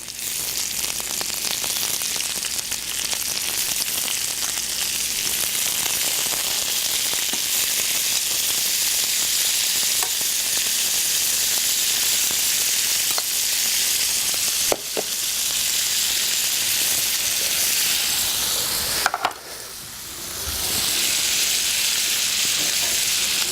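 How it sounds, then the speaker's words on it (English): Shrimp hit a hot pan with garlic and sizzle loudly and steadily, a dense bright frying hiss with a couple of sharp knocks and a brief dip near the end, close up with no talk. "here we're going to add the shrimp to the pan before the garlic turns too brown"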